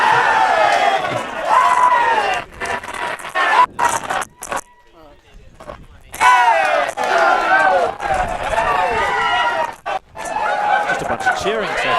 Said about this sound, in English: Let's hear from the players as they sing their club song.